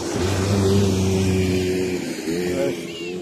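Cars drive past and rev their engines at a red sand desert spot, a steady mid-pitched engine drone that rises and shifts as vehicles move by, with people talking over it.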